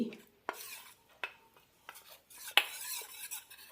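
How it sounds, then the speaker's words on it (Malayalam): A spoon stirs cornflour into a little water in a small bowl or cup, giving sparse, separate clinks and scrapes at irregular intervals, close and fairly quiet, with no talking. "രണ്ട് ടീസ്പൂൺ കോൺഫ്ലോർ വെള്ളത്തിൽ കലക്കിയെടുക്കാം"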